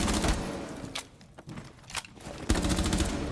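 Rainbow Six Siege gunfire: dense bursts of automatic rifle fire with brief gaps and a few isolated shots between, loud and continuous in game.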